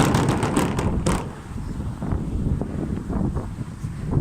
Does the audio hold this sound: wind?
yes